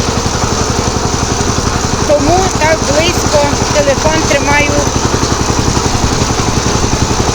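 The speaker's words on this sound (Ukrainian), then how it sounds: "Трактор тарахкотив, не знаю, чи чути, чи не чути" A loud tractor engine chugs and rattles in a fast, steady rhythm throughout, close by, during garden tilling, while someone talks over it midway.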